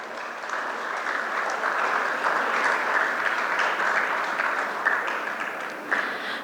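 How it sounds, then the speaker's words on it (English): An audience at a colloquium gives a sustained round of applause for awardees, a dense, even wash of many hands clapping, moderately loud and uninterrupted by talk. "Let's give them a huge round of applause."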